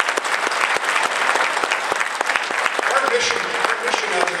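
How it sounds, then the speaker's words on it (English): Graduates at a career-school graduation ceremony receive a strong round of crowd applause, with many hands clapping densely and close. A voice starts speaking over the applause as it carries on. "Let's give them a round of applause"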